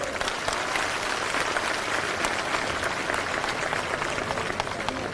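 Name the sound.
crowd applause at political rally for elders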